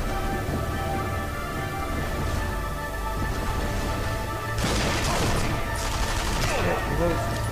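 Machine gun fire in the game Sniper Elite V2: sustained rattling bursts over a steady rumble, louder sharp volleys toward the end, with game music in the background.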